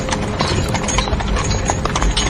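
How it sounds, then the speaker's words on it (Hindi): Hooves of horses pulling a carriage clip-clop steadily as it sets off, a continuous rhythmic trotting over a low rumble of wheels. "घोड़े फिर से शांत हो गए और बग्घी चल पड़ी।"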